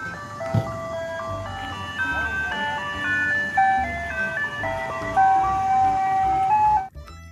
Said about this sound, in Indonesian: Yang ini mobil es krim.